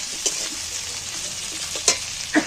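Chopped onions sizzle in hot oil, a bright continuous hiss close up, broken by a few sharp scrapes and knocks as they are stirred around the pan, with no talking.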